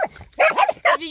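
Several short, loud dog barks and yelps ring out close by in quick bursts, with whiny tonal edges, from dogs out in a swampy spot.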